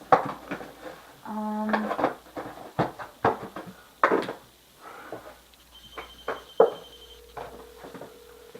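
A telephone rings in a room, sounding as a couple of short tonal ring bursts spread across several seconds, mixed with clattering handling noises and scattered knocks.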